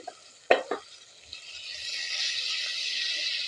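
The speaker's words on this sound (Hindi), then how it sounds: "अब हम अच्छे से इसे भून लेंगे।" Salt, turmeric and red chili being stirred and fried in a pan for aloo gobi salan, a spoon knocking a couple of times before a soft, steady sizzle rises and holds, close and quiet.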